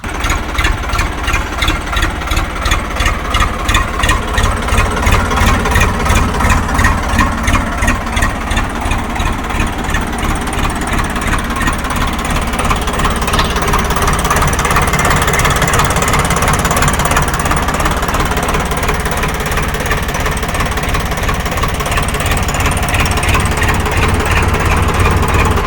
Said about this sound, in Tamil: வண்டியை ஸ்டார்ட் பண்ணுறேன் பாருங்கள்.